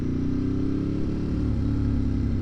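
A Ducati 1098S motorcycle engine idling steadily at about 1300 RPM, a loud, close, even low rumble with a regular pulsing throb and no voices.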